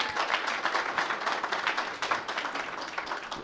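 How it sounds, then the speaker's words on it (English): A crowd applauds at a book launch for a work on African artificial intelligence, a dense, steady wash of many hands clapping at close range for several seconds without a break. "Stand up and give her a round of applause."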